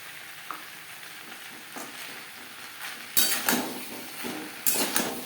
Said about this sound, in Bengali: সবজির সাথে নারকেল কোড়া বেশ ভালো করে মিক্স করে দেবো